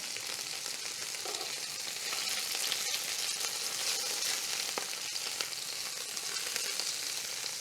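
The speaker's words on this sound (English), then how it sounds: "When the meat releases on its own, it's ready to turn, and that's what you want to see, nice browning" Beef sears in batches in a pot with a constant, bright hiss of browning meat, fairly soft and even, broken by an occasional faint tap; no voices.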